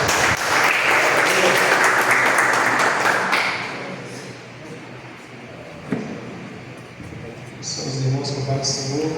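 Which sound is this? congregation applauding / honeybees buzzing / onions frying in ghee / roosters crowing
congregation applauding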